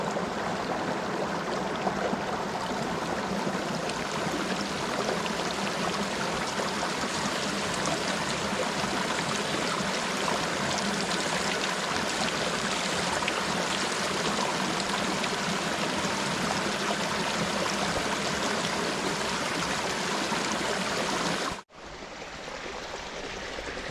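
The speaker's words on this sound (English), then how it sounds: "You see all these little waterfalls all just sprouting out the side of the mountain" Continuous rushing and trickling water from small waterfalls running down a mountainside in Nepal, steady and broadband throughout, cutting off abruptly near the end.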